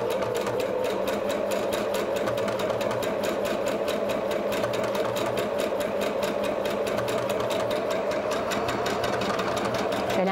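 A PFAFF Passport 2.0 sewing machine stitches steadily with a wing needle, its fast, even needle chatter running continuously at close range with no pauses or talk.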